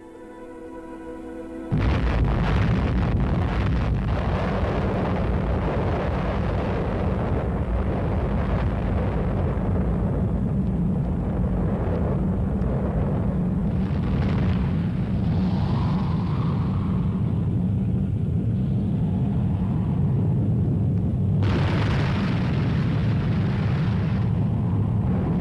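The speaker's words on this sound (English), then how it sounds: "have experienced their first atomic explosion" An atomic bomb test explosion erupts into a deep, sustained roaring blast that rumbles loudly and continuously for over twenty seconds after a brief quiet start.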